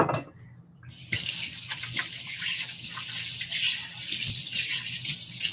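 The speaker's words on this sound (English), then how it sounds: "Let me just wash my hands." Water gushes from a kitchen tap as hands are washed, starting after a short quiet moment and then running steadily with splashing, close and fairly loud, no voices.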